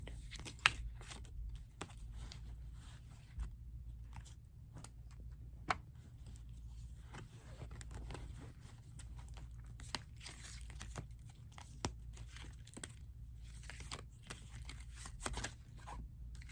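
Tarot cards are shuffled quietly and close up for an ASMR reading, giving soft, irregular crinkles, slides and crisp little taps over a low hum, with no voice.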